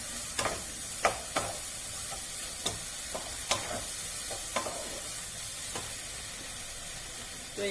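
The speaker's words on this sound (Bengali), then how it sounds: "তো এইবার এই ম্যারিনেট করা চিকেনটা দিয়ে দিচ্ছি।" Marinated chicken goes into a pan of sizzling cooked spice paste for spicy chicken bhuna, a soft continuous frying hiss broken by a dozen sharp scraping stirs and clinks.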